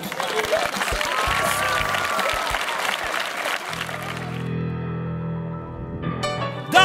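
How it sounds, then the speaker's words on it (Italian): Applause from a church summer youth program audience fills a reverberant hall, steady and fairly loud for several seconds before fading as music and other sounds take over. "Un grande applauso"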